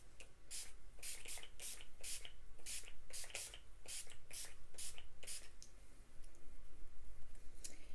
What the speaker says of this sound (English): I'm about to spray my face with this Skindinavia, the makeup finishing spray